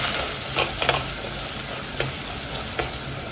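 Cumin seeds and garlic frying in oil as the base for a fish curry, a steady soft sizzle broken by a few light crackles and pops while the pan is stirred.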